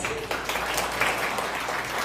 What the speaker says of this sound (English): Let's give God a clap for that.